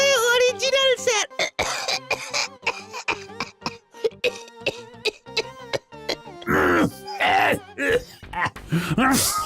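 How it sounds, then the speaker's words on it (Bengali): Cartoon characters cough, sneeze and clear their throats after a bug spray is let off to chase mosquitoes and flies, a run of close, repeated coughs and groans with short voiced bursts in between. "মশা মাছি তাড়াতে গিয়ে কাশি হাঁচি।"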